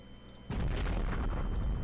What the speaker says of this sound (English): More explosions, kind of gotten used to those now.